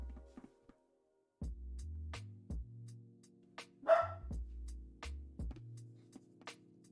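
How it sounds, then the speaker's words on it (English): A dog barks furiously in a string of sharp, loud barks close by, separated by short pauses, with some growly lower bursts between them. "My dog is furious."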